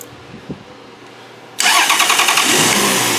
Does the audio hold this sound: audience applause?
no